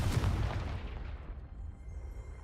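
A Confringo fire spell explodes in Hogwarts Legacy with a loud, rumbling boom that rolls off and fades over a couple of seconds, heard alone.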